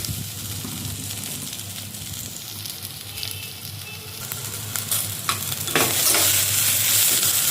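Shallots, curry leaves and coriander sautéing in a pan on a village stove for tomato rice, a constant close sizzle with occasional stirring scrapes that swell louder toward the end.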